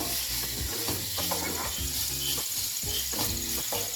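Finely chopped onions sauté in a pan toward golden brown for homemade chicken cutlets, a soft continuous sizzle with scraping stirs, close but fairly quiet, and no talking.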